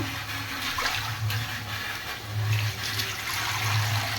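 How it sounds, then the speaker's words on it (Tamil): Water is poured out after washing fish in a home kitchen, a continuous splashing rush with a low gurgling undertone, close and steady throughout. "இதை டிஸ்போஸ் பண்ணிடலாம் தண்ணியை."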